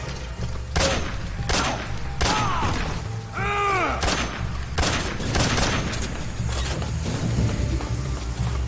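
Gunfire in the stealth game Metal Gear Solid 3: Snake Eater, with a series of sharp, evenly spaced loud shots and booms amid jungle ambience, plus a brief whistling sweep midway.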